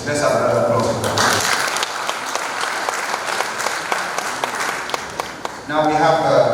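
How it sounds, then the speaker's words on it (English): Audience applauding at a book presentation event in Nigeria: steady, dense clapping from a large crowd through the middle, with voices and talk at the start and end. "Let's have another applause for them."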